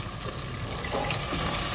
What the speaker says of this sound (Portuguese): eu vou colocar um pouquinho de água.